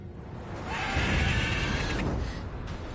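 Horse neighing in The Witcher 3, a single loud, drawn-out whinny rising and holding for about two seconds before trailing off, over low game ambience and hoofbeat rumble.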